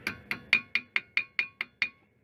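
A small hammer tapping on a brake caliper part while changing the front brake caliper on a 2001-2007 Ford Escape, nine crisp metallic taps in an even rhythm, close and fairly quiet, with no talk.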